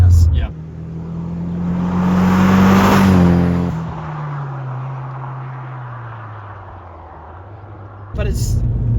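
A 1999 Nissan Silvia S15 Spec R with a turbocharged SR20 engine accelerates, its note climbing to a loud peak, then easing into a long, fading whir. A short, sharp burst of noise closes the clip.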